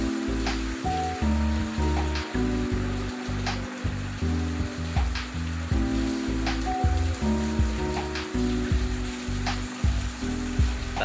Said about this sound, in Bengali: বাইরে দেখতে পাচ্ছেন কি পরিমাণ বৃষ্টি